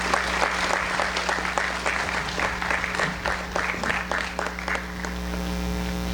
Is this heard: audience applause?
yes